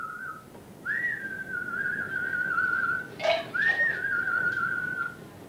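A person whistles to young foals in a long, steady, wavering tone, pauses briefly amid a few faint knocks, then whistles again over quiet background noise.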